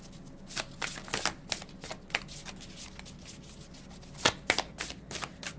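Cards shuffled for a group card reading: close, crisp riffling and flicking bursts in an uneven rhythm, louder near the end, with no talk.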